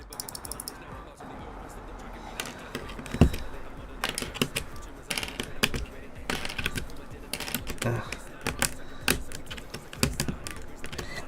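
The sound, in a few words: clicky mechanical keyboard switches being typed on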